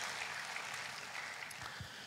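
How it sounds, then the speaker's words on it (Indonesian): Church congregation applauding during a sermon, a soft, even wash of distant clapping throughout, faint and alone with no talk over it. "Berikan tepuk tangan buat Tuhan Yesus."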